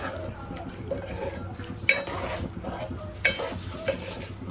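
Egg and potato curry being stirred in a pan, with soft scraping and clinking of a spoon against the metal over a low simmer, a couple of sharper knocks standing out.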